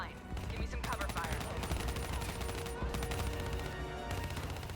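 Sustained rapid gunfire from Call of Duty: Black Ops III combat, dense overlapping automatic bursts continuing loud and close throughout, with battle noise and voices mixed in.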